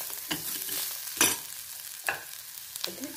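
Tomato fries in hot oil in a pan for methi amti, a continuous sizzle under a few sharp scraping stirs spaced about a second apart, close up and with no talking.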